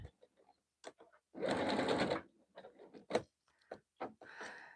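A sewing machine runs a straight stitch back and forth on a jelly roll rug: one steady mechanical whir lasting about a second, surrounded by faint clicks and handling noises.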